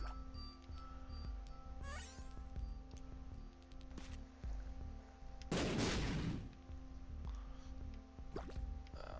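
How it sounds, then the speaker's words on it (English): Video game projectile shots burst and explode over a busy game soundtrack, with one loud crackling blast dominating the middle and sharper hits scattered around it. "we're shooting those holy light shots that then explode"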